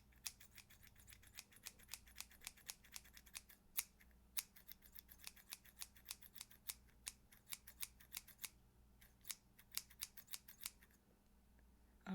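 Scissors snipping hair in a quiet haircut setting, dozens of quick, crisp close-up snips in uneven bursts, with no talking.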